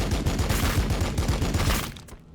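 Bolter gunfire sound effect from Warhammer 40,000, played during a tabletop battle: a loud, rapid, continuous volley of heavy shots lasting about two seconds, then cutting off.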